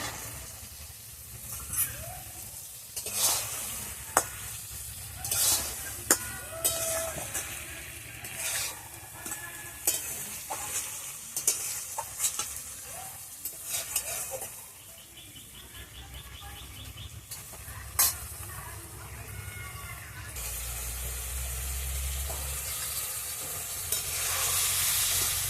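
Peas tossed into a hot pan for brinjal curry, stirred and fried: steady close sizzling with intermittent scraping stir strokes, a brief louder burst of frying near the end, and faint bird chirps in the background.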